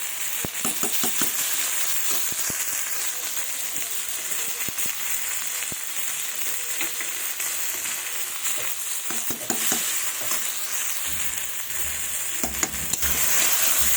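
A spice paste of ground dried red chilli, cumin, ginger and coriander is sautéed in a pan. It keeps up a loud, steady sizzle while a utensil scrapes and stirs in irregular bursts, with no voices.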